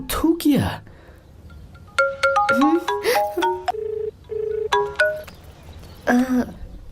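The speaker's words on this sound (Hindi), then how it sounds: "किसका फोन था?" A mobile phone ringtone plays a repeating electronic melody of bright tones in several bursts, fairly loud and close, with brief voices and breaths between the rings.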